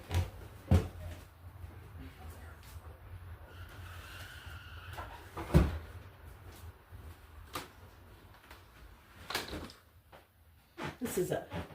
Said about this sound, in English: I'm going to just close the windows and doors.